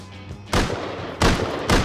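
Auto turret firing in the online game Rust during a rocket raid, three loud, close bursts of gunfire in quick succession with no talking.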